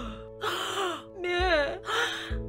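A voice performs a series of three drawn-out, strained gasps, close and loud, with short pauses between them.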